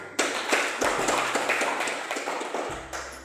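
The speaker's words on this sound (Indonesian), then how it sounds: "Berikan aplaus untuk kelompok satu" A small group claps, starting abruptly and continuing in an uneven patter that slowly thins out, close and fairly loud, with no one speaking over it.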